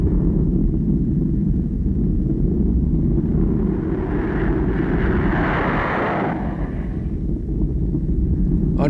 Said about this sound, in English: the first time they had heard the roar of a jet engine